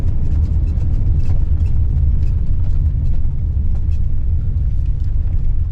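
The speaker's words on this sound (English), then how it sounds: "Here's the truck that's spreading the gravel that we keep driving through." A gravel-spreading truck and a car roll along a high mountain road at about 6,000 feet, giving a loud, continuous low rumble of engines and tyres on gravel with no speech over it.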